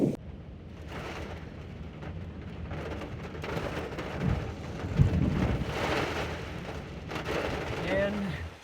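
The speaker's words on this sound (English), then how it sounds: "Just like that, there's the rain." Heavy rain arrives as a wall of rain, pouring down in a dense, continuous roar, with a few low thumps and a person talking faintly beneath it.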